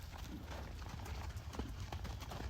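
Hoofbeats of a horse loping in an arena, a steady rhythmic clip-clop of near, moderately loud footfalls under continuous background noise.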